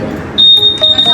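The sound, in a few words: Honda ADV160 scooter anti-theft alarm sounding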